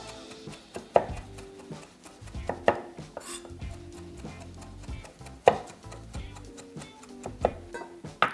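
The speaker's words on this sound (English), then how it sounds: "I'm going to start chopping" A knife chops fresh parsley on a cutting board in a home kitchen, a run of close, irregular thuds and clicks with a few sharper knocks, mostly without talking.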